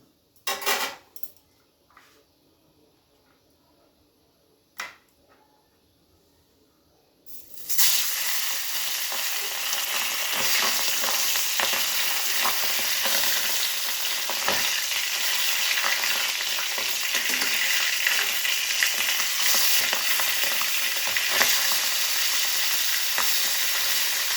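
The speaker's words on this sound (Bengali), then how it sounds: "এখন আমি মাছগুলো ভেজে নেব।" Tengra fish drop into hot mustard oil in a kadai: a few quiet clinks, then a sudden loud, dense, close sizzle that holds steady to the end with no voices.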